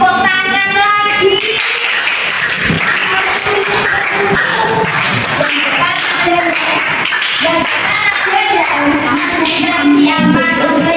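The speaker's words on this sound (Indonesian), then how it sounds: "Oke, tepuk tangan lagi." Secondary school students in a classroom clap together in a sustained round of applause, with a voice speaking over the patter of hands.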